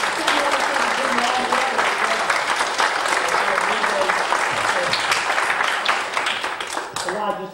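Sustained applause from a church congregation honoring volunteers at a special service, many hands clapping loudly and steadily for several seconds, with some voices mixed in, before tapering off at the end.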